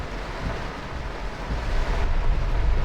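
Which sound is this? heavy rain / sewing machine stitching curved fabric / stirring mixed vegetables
heavy rain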